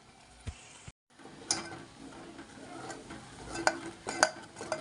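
Raw chicken curry masala being stirred and fried in oil in a pan: soft sizzle with scattered scraping and clinking of the spoon against the pot, close and fairly quiet, with no talk.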